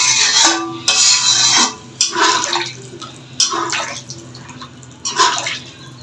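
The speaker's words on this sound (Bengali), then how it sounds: "তখন আমি ঝোল দিয়ে দিচ্ছি একটু ঝোলই হবে" Broth is poured into a pan of pabda fish curry cooking with vegetable stems, coming as several close, splashy pouring bursts separated by short pauses.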